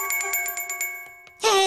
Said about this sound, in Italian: Il campanello del monopattino?